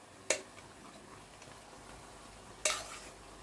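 A spoon taps against a pot while carrots, almonds and raisins are stirred over Afghani pulao, two sharp, brief clinks a couple of seconds apart over a faint background.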